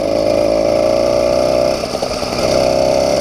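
A motorized bicycle engine warming up before a carburetor change, a loud, close steady buzzing drone with a strong fundamental hum that wavers and dips briefly midway before evening out again.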